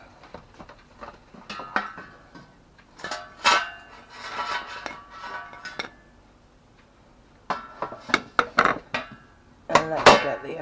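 Air-fried potatoes are lifted out of the air fryer basket with a string of close, sharp clinks and clatters of metal and dishware, arriving in bursts separated by short quiet gaps.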